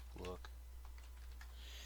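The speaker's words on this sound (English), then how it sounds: "I read out loud when I'm typing because if I don't, I'll misspell the words" Soft computer keyboard typing clicks sit faintly beneath a voice talking, brief taps scattered across the moment.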